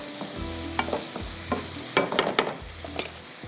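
Capsicum and carrot frying in a pan, bright sizzling under a series of stirring scrapes and spoon knocks that grow busier midway, close and fairly quiet with no voices.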